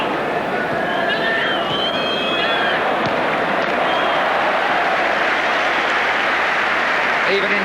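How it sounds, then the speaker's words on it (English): A large football crowd at the 1979 Charity Shield between Liverpool and Arsenal applauds in a steady, dense roar of clapping and cheering that carries on throughout, with faint voices mixed in. "Even in defence they get applause."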